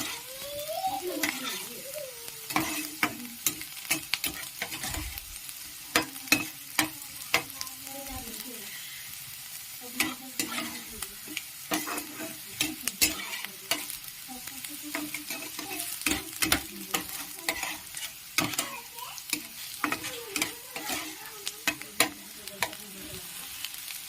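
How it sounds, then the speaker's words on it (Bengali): Onions and soaked chana dal frying and being stirred in a pan for upma, with a constant sizzle broken by repeated scraping spoon strokes, close and fairly loud, no talk. "পেঁয়াজগুলো হালকা লাল ভাজা হয়ে গেছে"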